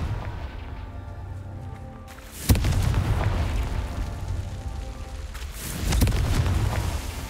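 Two booming Confringo blasting-spell explosions from the video game Hogwarts Legacy, the first a sharp loud burst followed by a rumbling tail, the second a few seconds later, over a low continuous game backdrop.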